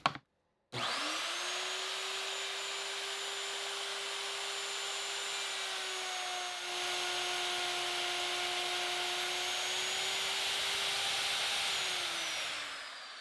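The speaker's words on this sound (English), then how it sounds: "The router will run along the half inch MDF fence, and the bit will cut along the quarter inch plywood edge." Router running along a half-inch MDF fence, cutting a dado in scrap plywood; a sharp start, then a steady high-pitched motor whine with cutting noise, close and loud, holding level before winding down at the end.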